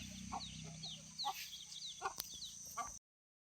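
Free-range chickens in a farmyard cluck and chirp faintly in short, scattered calls over a low background hum for about three seconds, then the sound cuts to silence.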